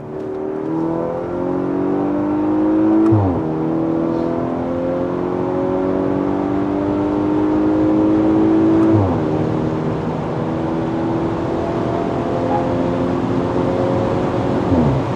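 A modified, software-tuned 315 hp Audi A5 45 TFSI Quattro engine revs up loudly, its pitch climbing through gear changes with brief drops between shifts, heard close from inside the car.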